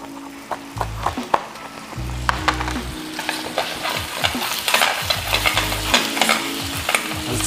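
Chopped chili sautés in a hot pan for a budget home-cooked dish, with a continuous loud sizzle, repeated scraping stirs and short low rumbles throughout.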